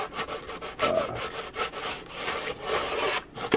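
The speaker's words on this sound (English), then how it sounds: "sanding these strips flush" Sandpaper rubbed back and forth over thin wood strips on a 1:20 scale mini hydroplane kit, giving a series of short, close, scratchy strokes in an uneven rhythm.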